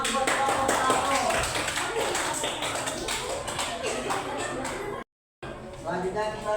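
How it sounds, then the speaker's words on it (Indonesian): Classroom clapping for the first student group after a correct answer: dense, steady hand claps from a room of pupils, fairly loud and continuous, with chatter mixed in and a brief silent gap near the end before clapping resumes. "Tepuk tangan buat kelompok 1."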